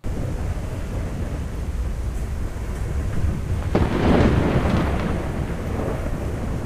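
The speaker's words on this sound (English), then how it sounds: "It appears to be a train rolling through a thunderstorm." A loud, continuous rumble of rain with deep rolling thunder swelling in the middle, no voices.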